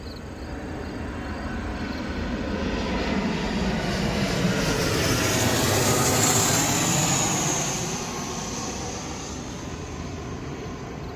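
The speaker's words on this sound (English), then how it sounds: "hang on, we got a plane coming over" A plane passes overhead, a broad, steady roar that swells to a peak midway and then slowly fades, heard alone with no talk.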